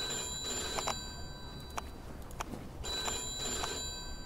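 Old-fashioned telephone bell ringing in the 1940s-50s crime game Mafia 2, two long insistent rings separated by a pause, loud and close.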